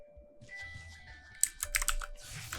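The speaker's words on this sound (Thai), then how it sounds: "เสียงคีย์บอร์ดดังนะ" Computer keyboard typing clatters in quick irregular bursts of sharp key clicks, loud and close, during play of the online shooter game Zone4 Extreme, with faint game sound effects beneath.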